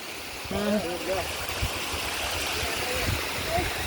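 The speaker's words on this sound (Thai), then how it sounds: "นี่น้ำตก" Phu Hong waterfall in the dry season sends a steady broadband rush of falling water, moderately close, while a person briefly talks and exclaims over it.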